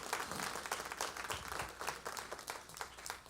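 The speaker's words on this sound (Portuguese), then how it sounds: "Aplauda ao Senhor." A church congregation applauds during a family worship service with brisk, continuous clapping, somewhat faint and reverberant.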